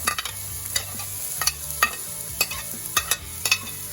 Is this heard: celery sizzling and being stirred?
yes